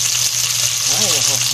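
Onions frying in a pan for salmon belly sinigang give a steady close sizzle with brief stirring scrapes, no talk over it.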